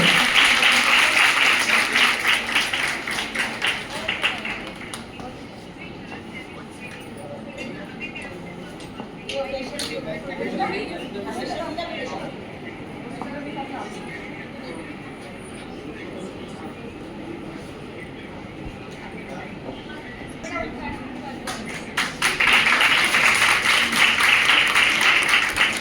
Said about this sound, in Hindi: तालियों की कमी नहीं होनी चाहिए।